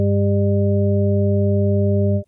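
A steady, pure electronic test tone with stacked harmonics holds evenly at constant loudness for about two seconds, then cuts off abruptly. It demonstrates a 600 Hz even harmonic of the fundamental.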